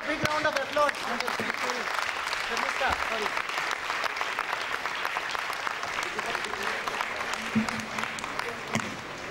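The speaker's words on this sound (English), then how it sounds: "Can we have a big round of applause?" An audience at a student felicitation function breaks into sustained applause, dense steady clapping filling the hall, with a speaker's voice audible briefly at the start.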